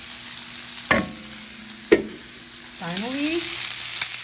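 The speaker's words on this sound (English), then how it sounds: "I am using lamb chops. Frying these up." Lamb chops fry in a pan with a steady sizzle and two sharp utensil clanks, then a brief spoken word near the end.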